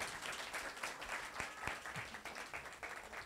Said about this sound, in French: Dukens Prince Civil, sous vos applaudissements, s'il vous plaît